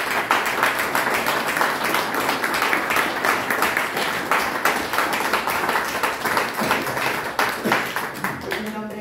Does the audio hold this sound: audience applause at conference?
yes